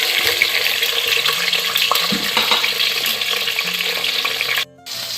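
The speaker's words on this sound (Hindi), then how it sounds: "इस ऑयल में मैंने प्याज, लहसुन, टमाटर वगैरह काट के रखे थे वो ऐड कर दूँगी" Chopped onion, garlic and tomato hitting about half a cup of hot oil, giving a loud, steady hissing sizzle that fills the whole span before briefly dipping near the end.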